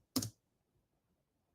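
A single sharp press of the Esc key on a computer keyboard gives one crisp click, then quiet, with a second click starting at the very end.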